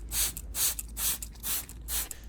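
Apple peel water misted onto anthurium leaves from a spray bottle, five short soft hissing bursts in an even rhythm, close and fairly quiet.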